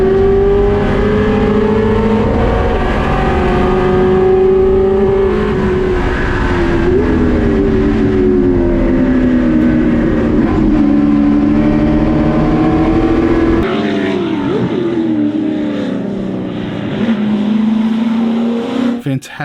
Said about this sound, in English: Tenkate all over the back of the number 1 Firebird, making several attempts to pass throughout the race.